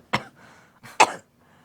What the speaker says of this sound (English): You'll get over this cough soon.